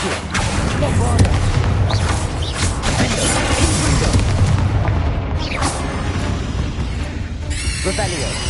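The Bombarda blasting spell goes off in Hogwarts Legacy with loud booming, crashing explosions amid dense game sound, and a voice talks over it.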